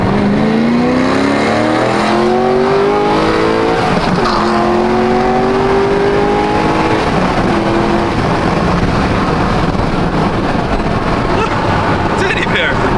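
A BMW M4 accelerating hard, its engine note climbing through quick, rapid gear shifts, loud and close from inside the car, with voices talking over the engine.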